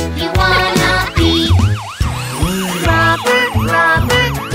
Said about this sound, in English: Sirens on, here we go.